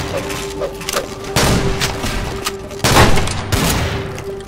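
Video game gunfire rattles steadily, with two heavier bursts of shots standing out over a constant background hum.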